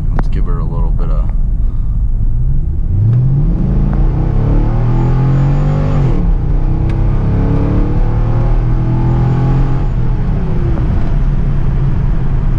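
A 1999 C5 Corvette with a 360-horsepower V8 accelerates hard, its loud engine note rising through the revs, dropping at a gear change and climbing again in a sustained, close roar.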